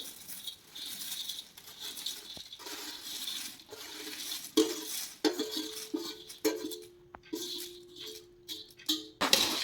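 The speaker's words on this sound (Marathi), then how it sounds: "आता सर्व मसाले मिक्स करून घेऊ आपण मुरमुऱ्यात मिक्स करून घेऊ" Spices are mixed into puffed rice chivda for Diwali, soft rustling and scraping of a spoon against a pot with intermittent light clinks, fairly quiet and close.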